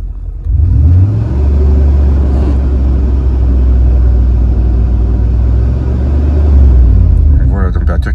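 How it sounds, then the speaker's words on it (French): A car engine revs up hard as the throttle opens, a loud steady low roar that holds for several seconds before easing, with a brief rise near the end. "Je vais vous montrer, là, je vais accélérer"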